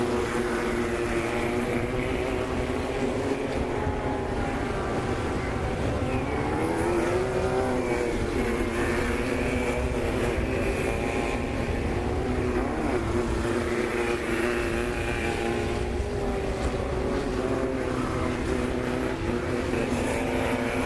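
Off-road race trucks in a Sportsman class event at Crandon roar continuously, with layered engine drone and rising and falling revs as vehicles pass, steady and loud throughout.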